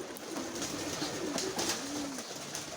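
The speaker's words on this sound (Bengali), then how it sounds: "আমাদের কবুতরগুলো সুন্দরভাবে চলাফেরা করতেছে" Pigeons coo softly in a winter coop wrapped in jute sacking against the wind. Several gentle, repeated coos sound close over a steady background hiss.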